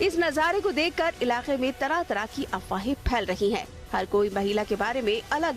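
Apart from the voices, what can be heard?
None of the usual background noises is heard.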